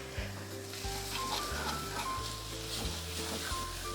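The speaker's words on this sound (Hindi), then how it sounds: "सब्जियों को भूनते हुए लगभग 2 मिनट हो चुके हैं" Vegetables for soup sauté in a pan with salt added, giving a soft, continuous close sizzle. Steady background music runs underneath.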